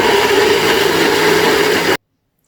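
Electric grinder blitzing peri peri chillies, a loud, close, high-pitched whirring motor drone that runs steadily for about two seconds and then cuts off abruptly into silence.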